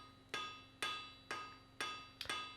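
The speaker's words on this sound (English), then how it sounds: "As you can see, I am being very sparing with my hammer blows." A blacksmith's hammer strikes hot metal to set a forge weld on a branch joint, five sharp ringing blows at an even, unhurried pace, the last doubled, close and clear with no talk.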